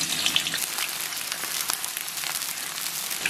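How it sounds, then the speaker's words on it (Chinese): Sliced scallion and ginger hit warm oil in a wok, giving a steady close hiss of frying with fine crackling pops throughout. "油温两三成热啊，咱们把切好的葱姜下到锅中"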